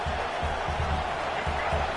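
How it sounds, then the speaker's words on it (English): A football stadium crowd roaring before a red zone defensive stand, a dense, steady wash of distant noise with no clear individual voices. "comes the noise. This crowd is trying to inspire this defense to make a big red zone stop"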